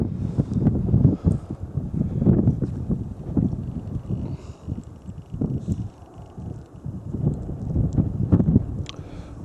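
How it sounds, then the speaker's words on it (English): Gusty wind buffets the microphone outdoors on a hillside, rumbling in irregular low surges with no talking. "Bit of a chill in the wind."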